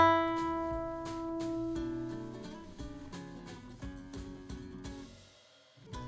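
The top E, the first string of a guitar, is plucked and rings, followed by further plucked and strummed notes in a quick sequence before a brief fade and a final pick attack.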